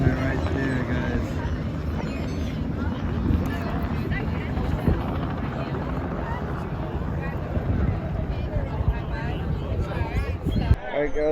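A helicopter hovers over a championship powerboat race in Key West, its rotor drone continuous and buffeted by wind noise, heard under a person talking.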